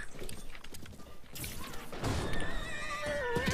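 A horse neighs loudly in a video game amid busy game sounds, crashes and thuds, with a long whinny rising toward the end.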